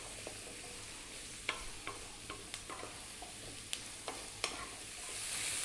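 Cauliflower frying in a pan over above-medium heat while it is kept moving: sharp spoon-on-pan scrapes and taps at irregular moments over a quiet, close sizzle, with no talking.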